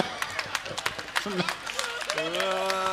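Scattered claps from an audience at a Hindi kavi sammelan poetry recital, sparse and uneven, followed by someone speaking over music.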